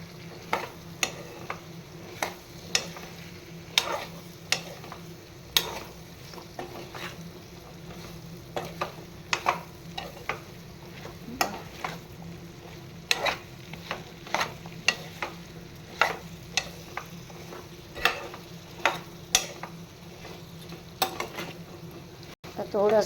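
Fennel seeds and spices frying on low gas for raw mango pickle, a quiet steady sizzle with frequent sharp stirring clicks of a spoon against the pan, close by.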